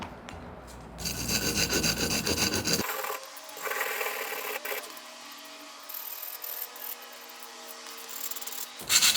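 Close, steady rubbing and rasping in long strokes of sandpaper worked against the sharp broken edge of a glass item, with a brief pause before it resumes.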